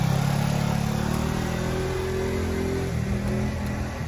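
A scooter engine revs up close, a loud buzzing drone that holds and then rises in pitch before settling into a rougher idle, no voices.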